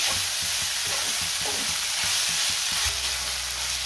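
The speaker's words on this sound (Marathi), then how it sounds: "सोडे तुम्ही आधी तेलावरती परतून घेतले तरीही चालतील किंवा मग कांदा टोमॅटो बरोबर परतून घेतलं तरीही चालेल" Dried fish (sode) fries in oil with onion and tomato, a continuous close sizzle broken by quick rhythmic stirring scrapes of a spoon against the pan.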